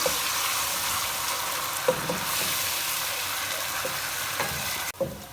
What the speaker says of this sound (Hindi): यहाँ हमने प्याज को भी इसके अंदर अच्छा सा फ्राई कर लिया है